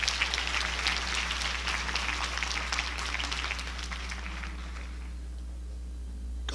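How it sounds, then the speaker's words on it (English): A church congregation claps together in a dense, sustained burst of applause that fades out over the last second or so. "Now give the Lord a good clap offering."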